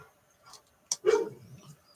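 A dog gives a couple of short barks from a distance, brief and fairly faint against a quiet room.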